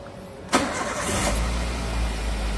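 A used car's engine cranks and catches with a sharp burst, then settles into a steady low idle that continues alone with no talk.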